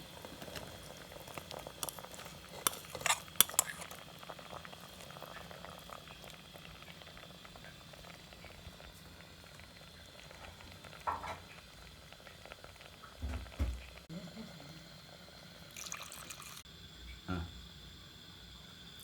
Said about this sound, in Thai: น้ำกะทิเดือดแล้ว